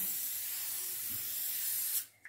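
Canola oil hitting a hot pan, a steady spraying sizzle and hiss close by that swells briefly and then cuts off abruptly near the end.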